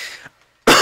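A person coughs twice in quick succession, close and loud, with a short silent gap between the harsh bursts.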